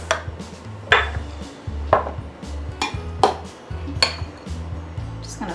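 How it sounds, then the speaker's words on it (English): Small metal loaf pans are pulled out and handled, giving a series of sharp clanks and clinks about once a second, close by, with softer knocks between them. "let's get our little loaf pans out here"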